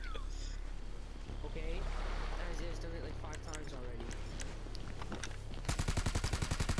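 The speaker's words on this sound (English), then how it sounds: "I pressed one bullet. It just shot a whole mag into the guy." Gunfire in GTA Online, a whole magazine emptied in one rapid automatic burst near the end, loud and close, after a stretch of people talking over game noise.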